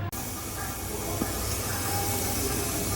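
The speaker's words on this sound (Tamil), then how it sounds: "குக்கரில் ஒரு 7லேருந்து 8 விசில் கூட தாராளமாக விடுங்க" Steady loud hiss of steam venting from a pressure cooker cooking chickpeas, a continuous broadband rush holding level after a brief dropout at the very start.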